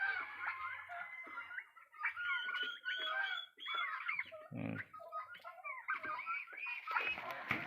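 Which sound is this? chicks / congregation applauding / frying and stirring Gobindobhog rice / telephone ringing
chicks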